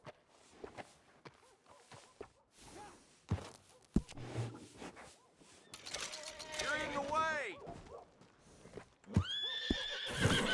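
A horse in the video game Red Dead Redemption 2 lets out a loud, wavering neigh midway, with hoof clip-clops and footsteps around it, followed by a second whinny near the end.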